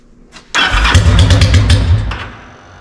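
A Yamaha V-Star motorcycle engine on half choke cranks in a quick burst of starter pulses, loud and close, then winds down without catching.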